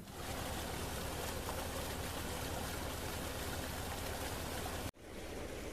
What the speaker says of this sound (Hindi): कुछ ही देर बाद हमारी सिंचाई स्टार्ट हो गई और पानी जो है रास्ते में चलना स्टार्ट कर दिया।